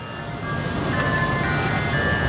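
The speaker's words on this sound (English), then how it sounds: "Ice cream truck. You guys hear that?" An ice cream truck's tinkling melody plays continuously nearby, steady and fairly loud, with no talking during the tune.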